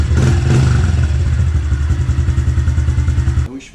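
A 2021 Honda CRF110F dirt bike engine idles close by, a loud, steady, rapid putter with clattering mechanical texture, cutting off sharply near the end.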